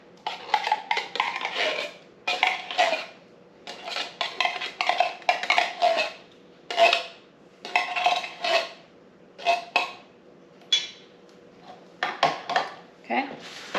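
Green beans and casserole ingredients from a second can are scraped and emptied into a dish, giving a steady run of close metallic clanks, scrapes and taps in uneven bursts over roughly fourteen seconds.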